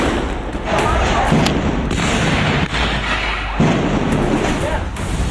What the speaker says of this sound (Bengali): পরপর গুলির শব্দ, ছোড়া হচ্ছে কাঁদানে গ্যাস।